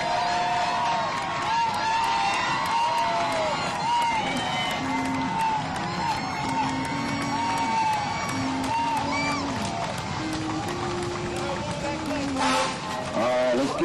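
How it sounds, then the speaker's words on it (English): A crowd cheers and whoops at a Duncanville High School event, with scattered applause and shouts mixed under a loud announcer's voice and bursts of music running throughout. "Cheer them on, people."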